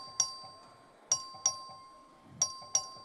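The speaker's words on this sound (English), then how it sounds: "The clerk will ring the bell." Voting bell in the Texas House of Representatives chamber rings five times, each a sharp bright struck tone that decays quickly, irregularly spaced over a low room murmur.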